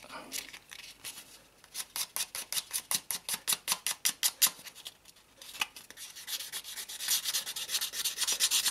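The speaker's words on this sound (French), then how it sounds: "Je finis par un petit ponçage." Light sanding on a plastic part of a Liberty Walk LB Ferrari 458 scale model kit produces quick rhythmic rubbing strokes, close and soft, with a denser scratchy stretch near the end.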